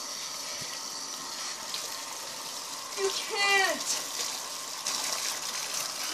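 Very cold water pouring and gushing steadily, with a brief splashy burst partway through, fairly close; voices speak over it.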